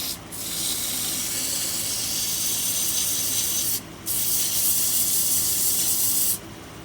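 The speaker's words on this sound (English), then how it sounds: "Sand this up right here, this little bit, and then we'll finish the bottom end." Sandpaper rubs against a spinning wooden vase on a lathe, a steady loud hissing scrape in long bursts broken by two short pauses, with no voices.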